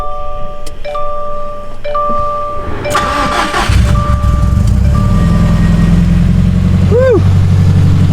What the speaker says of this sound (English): So let's get a cold start for you guys.